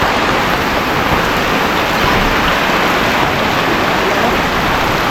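Heavy rain pours down outside in a rural backyard cooking area, a loud, dense, unbroken hiss of drops beating on surfaces, steady throughout with no voices.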